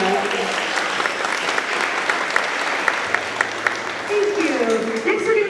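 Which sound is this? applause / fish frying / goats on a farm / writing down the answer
applause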